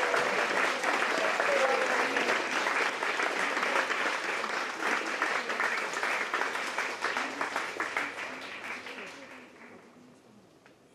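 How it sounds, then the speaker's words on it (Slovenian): A crowd at a street protest outside a government ministry in Slovenia applauds steadily and warmly, a dense wash of clapping that gradually fades out toward the end. "Zato en aplavz za vas,"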